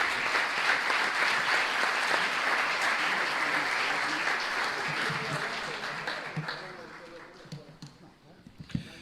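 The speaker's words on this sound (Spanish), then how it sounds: "vamos a recibir a Marcelo con un aplauso" Audience applause welcoming a candidate at a debate for national deputy, sustained clapping that stays strong for several seconds, then thins and fades with a few scattered claps and low murmuring at the end.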